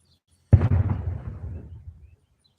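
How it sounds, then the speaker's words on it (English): A single loud, sharp blast of fireworks close by, followed by a rumbling, crackling tail that fades out over about a second and a half. "People are lighting off fireworks."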